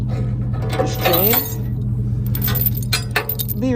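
A metal tow bar chain clinks and jangles as it is handled and lifted by a truck, bright scattered rattles in quick bursts, close and fairly loud, with brief voice fragments underneath.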